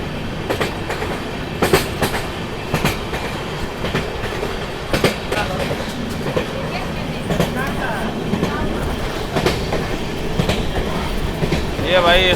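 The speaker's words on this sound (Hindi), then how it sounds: "ये अपना सोन नदी पर से क्रॉस कर रही है अपनी ट्रेन" An Amrit Bharat Express train rumbles across a long multi-track bridge over the Son river, its wheels clattering in irregular bursts over rail joints with a steady rolling undertone, while someone talks quietly in the background.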